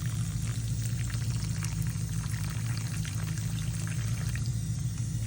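Water is poured steadily onto potting soil for desert rose seedlings, a continuous close trickling and gurgling over a low hum, with no talking.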